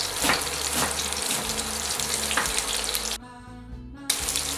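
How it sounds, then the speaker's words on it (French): Meat browning in a large pan for a dish cooked with flageolet beans, giving a steady loud sizzle with stirring clatter and a brief quieter gap before the frying hiss returns. "on veut juste rissoler un peu la viande"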